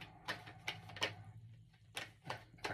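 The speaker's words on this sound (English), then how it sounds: "So let's give them a shuffle." A tarot deck of Witchcraft Tarot cards being shuffled, a handful of soft papery riffling bursts at uneven intervals, close and quiet, with no talking.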